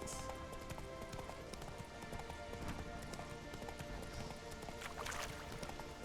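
Roach, Geralt's horse in The Witcher 3, gallops with a steady rhythm of hoofbeats close by, layered over a continuous game ambience with no pauses.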